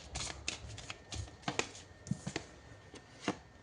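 Cards drawn and flicked from a tarot deck during a reading, a run of crisp papery snaps and slides at close range, about a dozen short bursts in an irregular rhythm with no talking.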